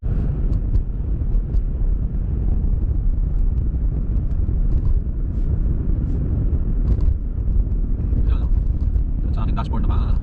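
A car drives slowly along a snowy road in Toronto on winter tires, with a steady low interior rumble and road noise throughout and a few faint clicks and rattles near the end.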